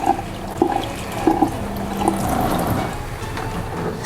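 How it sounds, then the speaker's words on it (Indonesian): Running water rinsing a kitchen cloth at a sink, a steady splashing stream with short wringing bursts, close and continuous, no one talking. "kalau dicuci, disiram kayak gini, ini akan bersih sekali"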